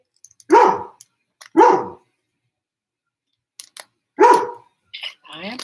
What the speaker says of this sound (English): I apologize for my dog.